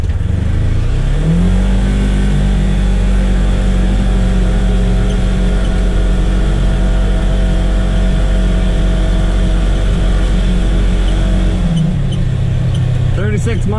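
A Polaris Ranger XP1000 UTV fitted with a Hunterworks belt accelerates in performance mode, its engine rising to a loud, sustained drone close by for about ten seconds before easing off.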